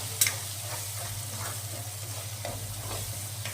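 Red chili powder and turmeric being stirred into dal in a pan, a soft continuous scraping and sizzling with a low steady hum underneath, close and moderately quiet.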